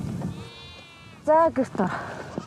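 Goats at a Mongolian nomad camp bleat close by, with a few wavering cries in quick succession partway through, set against a low background of voices and outdoor noise.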